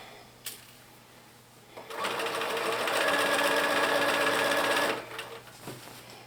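A sewing machine runs steadily for about three seconds, stitching a set-in sleeve into a blouse, with soft handling clicks before and after the run.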